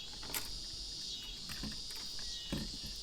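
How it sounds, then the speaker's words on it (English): Cicadas buzz at night beside the water during fall bass fishing, a faint, steady high drone with a few soft knocks and splashes close by. "got the cicadas joining us again tonight"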